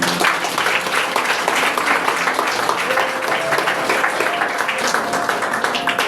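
A church congregation claps together in a dense, sustained round of applause, steady and fairly loud, with faint voices mixed in.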